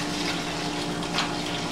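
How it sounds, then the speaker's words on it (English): Hot steaming liquid poured slowly over rice for pilaf, a steady, close rushing pour with no breaks, heard alone without talk. "Now I'm adding the hot stuff to the rice."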